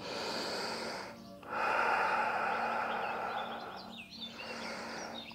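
Deep, regular breaths during a yoga pose, long airy inhales and exhales, close and steady, over a soft background hum and no talking.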